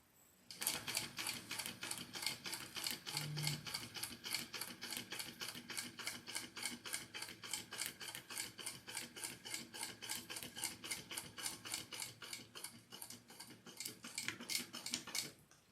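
A sewing machine stitches a fabric panel for a crossbody bag with a fast, even rattle of needle strokes that runs nearly nonstop, close and fairly quiet, then stops briefly near the end.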